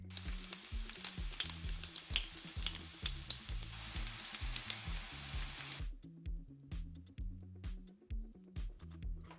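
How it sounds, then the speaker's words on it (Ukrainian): Egg-dipped cutlets fry in hot oil with a steady, dense sizzle and crackle, close and loud, easing slightly partway through as a low rhythmic thumping continues underneath. "Обмочую кожну котлетку в яйце і обсмажую на олії."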